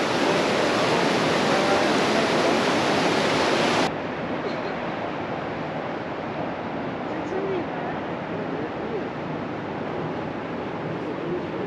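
A steady, full roar of a glacier-fed waterfall in Canada fills the scene, constant and close, with its bright hiss dropping slightly partway through.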